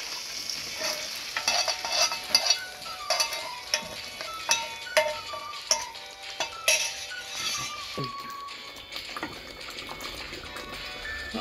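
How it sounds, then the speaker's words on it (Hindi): Hot tadka tempering with green chillies is poured into dal, giving a soft frying sizzle under repeated metallic clinks and scrapes of a spoon stirring the pot, fairly quiet and close. "अब हमारा तड़का तैयार हो गया। अब इसे दाल में शामिल कर देंगे।"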